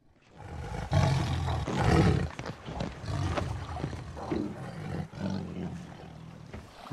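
Tiger roaring in the film Life of Pi, heard at sea near a boat: loud, deep, growling roars in repeated bursts over several seconds, fairly close and filling the scene with rough snarling.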